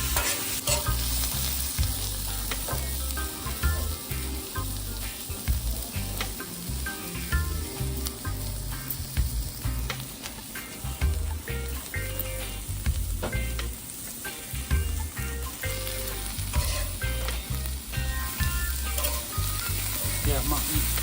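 Steak sizzles and fries steadily on a grill for the whole stretch, a loud continuous crackle with occasional stirring, no talking.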